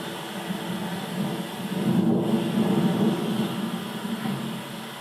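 Thunder rolls on a rainy day, a low, fairly near rumble that swells through the middle of the stretch and eases off over a soft steady hiss of rain, with no voices.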